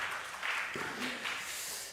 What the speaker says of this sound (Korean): 잘 다녀오라고 박수 한번 부탁드리겠습니다.